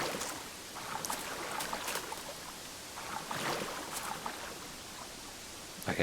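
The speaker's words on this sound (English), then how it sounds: "I can hear splashing noises" Water splashes and washes in the video game URU over a steady, soft watery hiss, with several brighter splashy bursts scattered across the stretch and no voices.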